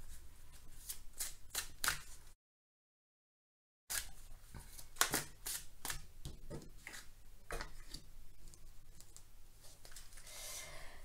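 Oracle cards being shuffled by hand, quiet papery riffles and flicks in quick irregular bursts, close and soft, with a brief silent gap partway through.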